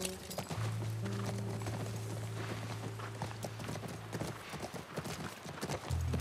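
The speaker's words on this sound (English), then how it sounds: "That's our horse." Horse hooves clip-clop at a steady walking rhythm in The Last of Us Part I, close and clear over a low sustained drone, with a faint whinny-like tone partway through.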